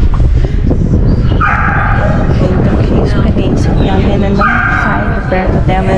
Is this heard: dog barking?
yes